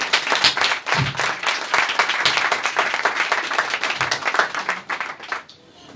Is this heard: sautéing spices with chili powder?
no